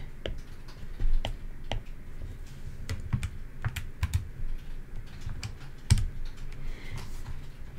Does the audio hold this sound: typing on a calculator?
yes